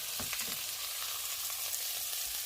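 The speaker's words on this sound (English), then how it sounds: "let me get that fat on the pan and let's render it" Steak fat renders in a hot frying pan, giving a steady, bright sizzle with crackling pops that carries through all of the short stretch, moderately close and with no voices.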